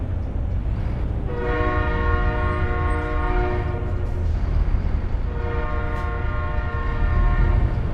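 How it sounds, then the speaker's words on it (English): A train rumbles past steadily in the video game American Truck Simulator while its horn sounds twice in long, sustained blasts; loud, continuous and close, with no voices. "And there goes the train."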